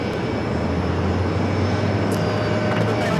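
Virgin airliner jet taxiing past the gates at JFK airport, a steady broad engine rumble and whine holding at an even level throughout, fairly close with no talk over it.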